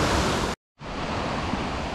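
The Hammersbach mountain stream rushes through the Höllentalklamm gorge in the Bavarian Alps, a loud, dense, steady roar of water that drops out for a moment and then returns at full strength.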